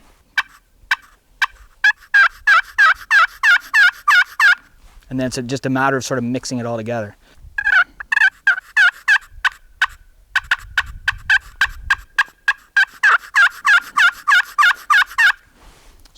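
A hand-operated turkey call mimics a hen, sliding through rhythmic runs of sharp clucks, then a brief rolling purr, then more rapid clucking, all close and loud, with a person speaking briefly in the middle.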